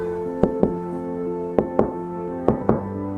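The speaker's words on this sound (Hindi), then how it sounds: "रात के 12 बजे बाहर से कोई दरवाजा खटखटा रही थी।" Knocking on a door at midnight comes in three pairs of sharp raps, evenly spaced and fairly loud, over a soft tonal backing of sustained music.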